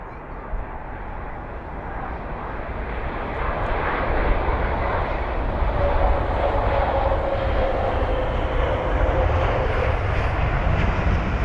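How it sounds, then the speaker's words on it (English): A 22-year-old Boeing 777 airliner arriving at London Heathrow, its jet engines a loud, continuous broadband roar that swells as it nears and holds steady throughout. "Here's the 777."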